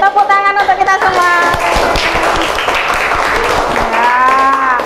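Elementary school classroom clapping: a brief burst of quick, crisp hand claps from a group of pupils in the middle, with voices speaking before and after.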